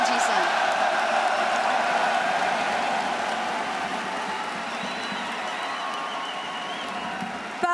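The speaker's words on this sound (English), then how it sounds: "un tonnerre d'acclamations pour vos deuxièmes finalistes" A large arena crowd at the League of Legends Worlds 2024 semifinal between T1 and Gen.G in Paris roars, cheers and applauds in a dense, sustained wall of noise with a faint announcer voice beneath it.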